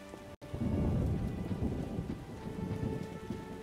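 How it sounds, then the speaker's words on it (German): Steady heavy rain with a rolling rumble of thunder in The Witcher game, loud and continuous after a brief cut near the start, with no talk over it. "In dem scheiß Regen."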